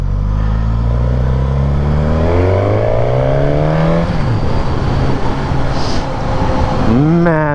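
A 2025 Suzuki GSX-S1000 motorcycle engine climbs steadily through the revs while riding, shifts down with a drop in pitch, then pulls hard again, loud and close throughout with constant wind rush.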